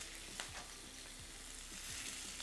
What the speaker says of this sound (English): lobster tails right in there just like this, so we can get a nice sear on them